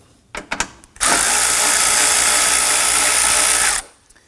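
A power driver with a socket loosening an 8mm bolt on the air intake of a 2003-2014 Volvo XC90, a loud, steady whirring run of about three seconds after a few clicks.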